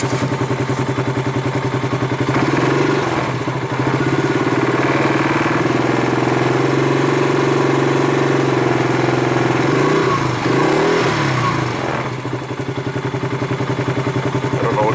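A Polaris engine idling around 1250 RPM runs as a loud, steady, close mechanical drone with a rhythmic low thrum and light clatter, holding even for the whole stretch.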